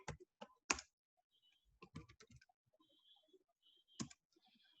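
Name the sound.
typing on a computer keyboard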